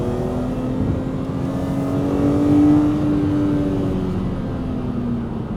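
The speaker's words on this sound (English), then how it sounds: "listen to that S54 roar" A BMW Z4 M Roadster with the S54 straight-six engine roars past on a road, a steady loud exhaust note swelling as it nears and fading slightly as it goes, with no talking.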